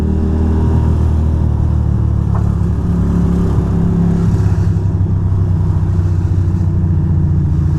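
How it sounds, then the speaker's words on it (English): Motorcycle engines drone steadily in nearby New York City commuter traffic, with a rising rev partway through and continuous road rumble throughout. "So many motorcycles today."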